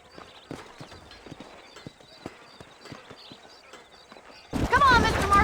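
Horse hooves clip-clopping at a steady walking rhythm in the Red Dead Redemption video game, with faint ambient sound beneath; near the end a loud burst of talk and noise takes over.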